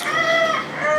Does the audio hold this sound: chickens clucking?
yes